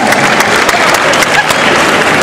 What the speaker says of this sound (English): Give them a round of applause, that was fabulously demonstrated.